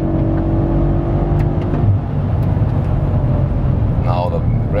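A BMW M5 engine revs hard toward 7,000 RPM on the way to a racetrack, a loud sustained roar with a rising whine that dominates throughout.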